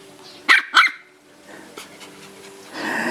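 A small dog gives two sharp, close barks in quick succession, followed by quieter yips and panting, with faint background noise rising at the end.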